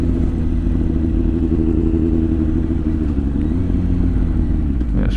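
A motorcycle engine drones steadily while riding, a constant close, loud hum and rumble from start to finish with no talking.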